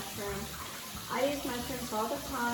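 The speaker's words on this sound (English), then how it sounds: "Sorry for the water noise" Tap water runs steadily into a sink while mushrooms are washed in a home kitchen, a continuous close hiss under a voice talking throughout.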